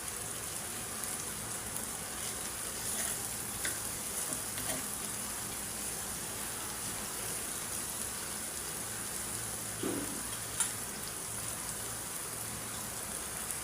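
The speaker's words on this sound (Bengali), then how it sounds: "আমি চুলা কমায় দিয়ে মাছগুলো একটু ভালো করে বাইচে নিলাম" Small fish frying in a pan on a stovetop over low heat, giving a steady, even crackle and hiss close by, like light rain, with a few faint knocks and no talk.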